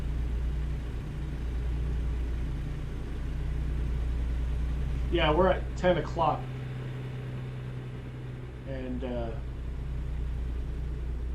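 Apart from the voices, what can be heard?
truck engine driving, from video game American Truck Simulator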